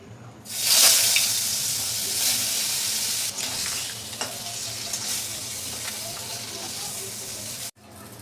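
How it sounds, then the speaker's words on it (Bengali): Two koi fish, rubbed with salt and turmeric, go into hot mustard oil with a sharp burst of sizzling that settles into a steady crackling fry, punctuated by faint spatula scrapes before cutting off abruptly. "আমি মাছ দুটোকে লবণ হলুদ দিয়ে ভেজে নেব দিয়ে দেবো সর্ষের তেল"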